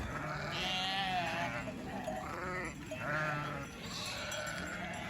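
Several lambs bleat in overlapping, wavering cries close by, with short pauses between calls and no talking.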